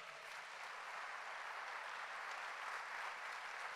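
A church congregation applauds during a sermon, a continuous, even wash of clapping heard faint and distant without breaks.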